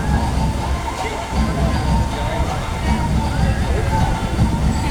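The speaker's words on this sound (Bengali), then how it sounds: "অটোমেটিক ঢেউ সৃষ্টি হচ্ছে, ক্যামেরাতে বোঝা যাচ্ছে কিনা" Artificially generated waves wash and slosh steadily through a park pond built to feel like a beach, a continuous loud churning rush with the murmur of a crowd beneath it.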